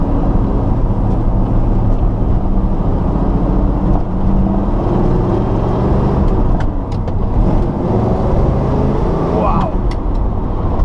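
A 1970 Chevrolet Chevelle SS engine roars steadily from inside the cabin, pulling hard at half throttle with a deep rumble and a brief higher whine near the end.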